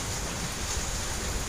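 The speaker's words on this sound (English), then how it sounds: "It's pretty quiet right now, except for lots of rain" Heavy rain during a severe Nebraska thunderstorm in May, a dense, steady hiss of downpour that fills the whole stretch without pauses or voices.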